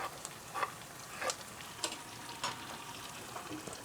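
Garlic sizzles in melted butter in a pan, a soft crackling fry broken by regular scraping stirs, close and fairly quiet.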